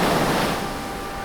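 Ocean surf washing against the rocky Marblehead shore in Massachusetts, a steady broadband rush of waves that stays loud and even, slowly easing over about a second with no voices.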